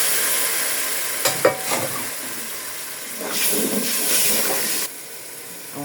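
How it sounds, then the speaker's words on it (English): Meat stock poured into a cooking pot for spaghetti and chicken, giving a steady close sizzle and hiss with brief stirring clatter, swelling in the middle and then dropping off near the end; no talking. "it's time to add our meat stock"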